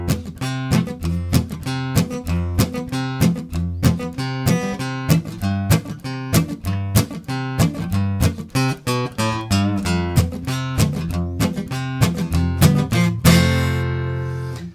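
Guitar strummed in a boom-chicka train rhythm, with steady alternating bass notes and chord strums in a driving, even pulse, close and clear with no talk.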